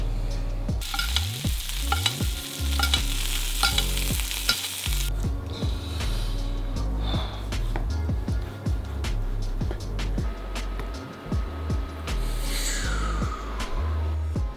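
Beef sizzling and frying in a pan as a chef cooks it to rare and medium, with steady crackling spatter and repeated scraping and stirring sounds up close.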